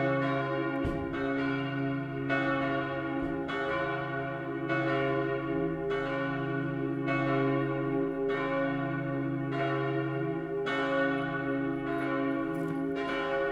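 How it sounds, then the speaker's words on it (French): Swinging bells of the Saint-Pierre cathedral ring out, part of a six-bell peal with a bourdon in the south tower, sounding in rhythmic, overlapping strokes with a sustained, resonant hum and no voices. "La cathédrale possède aussi une sonnerie de 6 cloches de volée."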